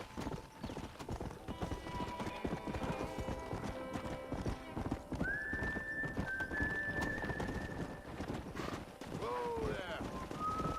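Horse hooves clip-clop at a steady gallop in the Western video game Red Dead Redemption, with a brief neigh near the end, loud and continuous over a faint game background.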